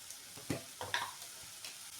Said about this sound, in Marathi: स्लो गॅसवरच आपल्याला कांदा छान परतून घ्यायचा आहे।